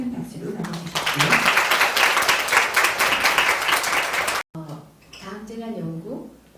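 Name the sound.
audience applause welcoming a speaker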